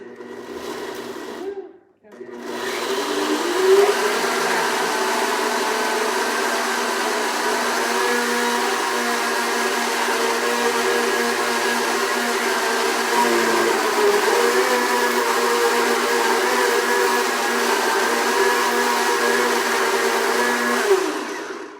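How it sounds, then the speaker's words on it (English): A blender grinds oats into powder with a loud, steady whirring roar that runs almost unbroken for about twenty seconds after a brief pause near the start. "it's going to get loud for a couple minutes because we're going to grind our oats into a powder"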